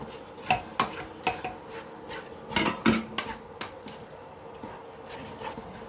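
A spoon stirs a thick paste of sugar and khoa in a metal pan, giving a run of close, uneven scraping and clinking strokes with a faint sizzle underneath.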